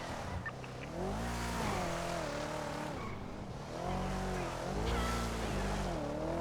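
A car driving in the video game GTA, an engine revving up and down in two rising and falling surges with a faint tire whine, steady and fairly close without talk.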